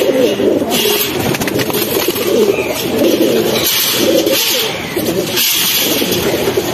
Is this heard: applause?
no